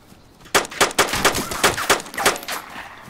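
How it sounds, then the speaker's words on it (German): A rapid burst of gunfire rattles out in the survival video game DayZ, around ten sharp shots fired in quick succession, fairly loud and close, with no talk over them. "Tiefe Schüsse."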